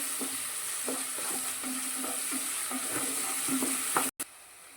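Stuffed brinjal frying in a generous amount of oil, a constant close sizzle with faint stirring scrapes at a loose rhythm, cut by a brief dropout near the end, no speech.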